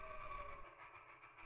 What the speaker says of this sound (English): silent except for the huff and the bang and the hiss of the engine and the click and the clack of the